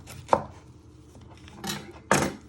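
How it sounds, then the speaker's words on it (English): Knife chopping the ends off a flattened vegetable on a board while making chicken and chorizo ragu: three crisp, close cuts, one early and two later in quick succession. "You chop the other ends off."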